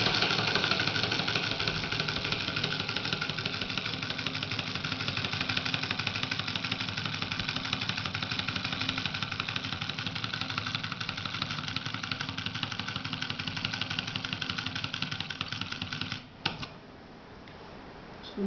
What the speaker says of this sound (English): So this is all about the solenoid engine.